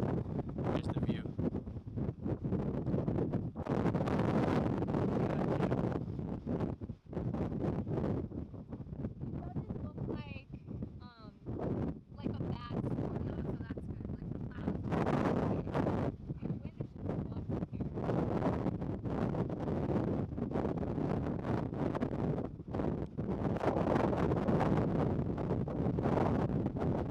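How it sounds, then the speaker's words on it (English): Strong, rainy wind buffets a mountain top on the Robert Mountain trail near Inverness, Canada, a constant loud roaring rumble with gusting bursts that fills the whole stretch. "You can tell it's pretty damn windy, so we're gonna wait a little bit until we go down."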